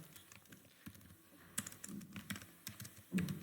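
Someone types on a computer keyboard, a quiet, close run of irregular key clicks in short bursts, with no voices.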